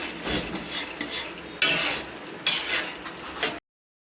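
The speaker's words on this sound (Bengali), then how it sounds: "শাকটাকে সুন্দর করে একটু নেড়ে চেড়ে নেব" Kalmi greens are stirred in a pan, a bright crackling sizzle broken by scraping spoon strokes, two sharp loud bursts as the greens are turned, then an abrupt cut to silence; nobody speaks.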